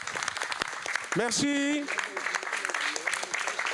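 Audience applause at a hip-hop fashion conference in Roubaix, a dense patter of clapping from a crowd running under a voice talking close by.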